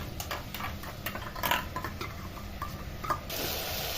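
A spoon stirs yogurt spiced with fennel powder, garam masala and Kashmiri red chili into vegetables in a cooking pot for Kashmiri pulao. Close, repeated scraping strokes and light clinks run steadily with no voices.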